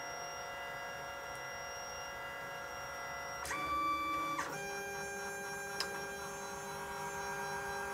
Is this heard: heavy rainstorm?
no